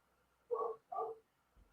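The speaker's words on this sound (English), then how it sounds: "I apologize for the bark." A dog barks twice in quick succession, two short muffled woofs in the distance behind a quiet, otherwise still background.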